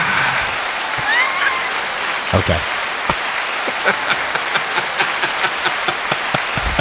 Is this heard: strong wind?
no